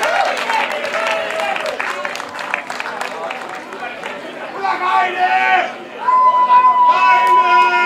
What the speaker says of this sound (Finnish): antakaa raivoisat aplodit